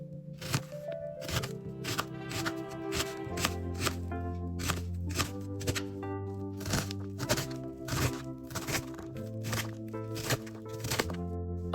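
A knife dicing an onion into small pieces on a cutting board: steady, rapid taps close by, evenly paced throughout, over soft background music.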